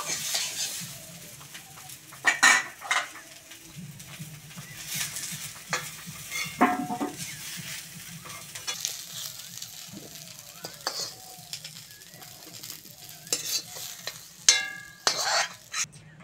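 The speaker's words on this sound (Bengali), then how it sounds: "সবজিগুলো ভালো করে ভেজে নিয়েছি, সবজিগুলো তুলে নেব।" Fried winter vegetables are lifted from a pan of hot oil with repeated scrapes and clinks of a metal spoon against the wok over a low sizzle, close and irregular, with a rooster faintly crowing in the background.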